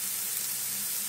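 Red chili powder roasts on a low flame for a whole masoor dal, giving a steady, soft, close sizzle and hiss with no voices.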